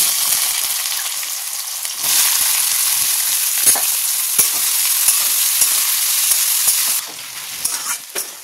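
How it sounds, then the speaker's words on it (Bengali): Potatoes and onions fry together in hot oil in a wok, giving a loud, continuous sizzle with scraping stir strokes and a brief dip in intensity near the end. "এবার এই যে আলু আর পেঁয়াজ একসঙ্গে দিয়ে একটু লাল লাল করে ভাজবো"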